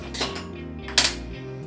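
A metal pot clanks twice, short and close, while a cook sets up to steam leafy-greens kudumulu dumplings with water in a vessel.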